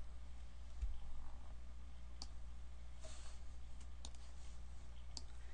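Several faint, sharp computer mouse clicks spaced irregularly over a steady low hum, close and quiet, with no talking.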